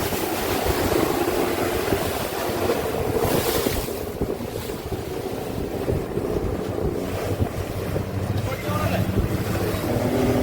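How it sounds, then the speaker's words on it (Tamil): A tourist boat on the Alappuzha backwaters in Kerala runs at speed and rocks side to side, giving a constant rushing wash of water and wind buffeting the microphone, with faint voices mixed in. "சுற்றுலா பயணிகளை உற்சாகப்படுத்தும் விதமாக அந்த போட்டை இந்த பக்கமும் அந்த பக்கமும் ஆட்டி ஆட்டி கொண்டு போவாங்க. நல்ல ஸ்பீடாகவும் போவாங்க."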